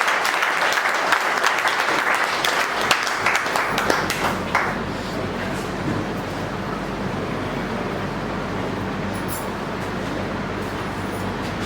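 An audience welcoming a speaker onto the stage at a business leaders' meeting breaks into dense, loud applause that sounds sharpest at first, then settles into a steady, softer roar of clapping.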